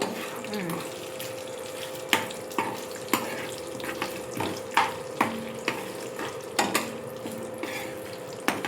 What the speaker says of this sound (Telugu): అవి దోరగా ఎర్రగా వేయించుకోవాలి.